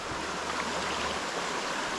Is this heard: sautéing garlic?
no